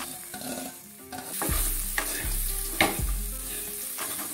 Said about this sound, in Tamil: தேங்காய் இவ்வளோதாங்க வறுபடுச்சு.